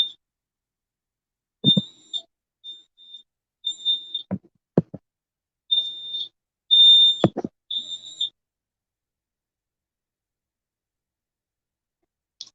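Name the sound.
fire alarm beeping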